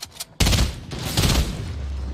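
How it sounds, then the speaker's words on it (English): Sniper rifle shot fired through fences in Fortnite: a single loud, sharp crack after a brief quiet start, with a ringing tail that fades over about two seconds. "Since when did they allow you to shoot through the fences with a sniper rifle?"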